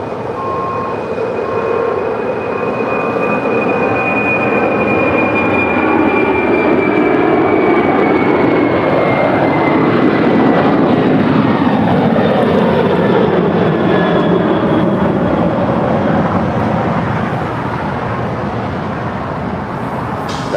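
A heavy Delta Boeing 747 on runway 25 left at LAX, its jet engine roar loud and continuous for about twenty seconds with a sweeping whine that rises and falls as it passes close by.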